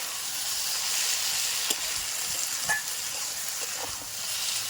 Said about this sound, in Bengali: অল্প পরিমাণে একটুখানি জল দিয়ে মশলাটা কষিয়ে নেব।